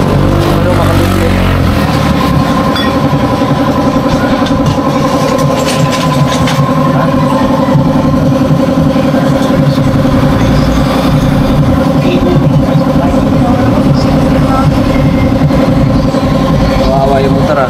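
A worn motorcycle engine with a failing crankshaft bearing runs loud and close, droning steadily with a rough, buzzing mechanical clatter throughout, and people talk over it.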